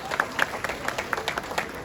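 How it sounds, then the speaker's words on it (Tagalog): Scattered applause from a tourism summit crowd, individual hand claps standing out as distinct sharp hits over a light background murmur, moderately quiet and somewhat distant. "Yung maraming palakpak naman"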